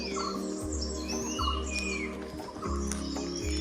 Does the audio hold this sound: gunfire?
no